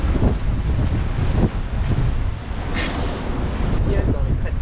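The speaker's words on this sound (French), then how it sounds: "heureusement, les vagues ont diminué, le vent aussi." Open-sea waves rush and wind buffets the microphone aboard a sailboat, a loud, continuous rumbling roar with gusty swells and brief splashes throughout.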